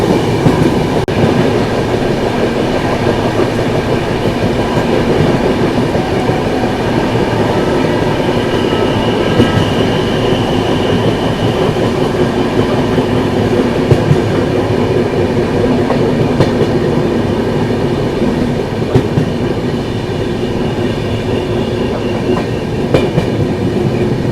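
A Central Railway Rajdhani express roars past on the main line, close by, with a steady heavy rumble and rhythmic wheel clatter that stays loud and unbroken throughout, with no voices.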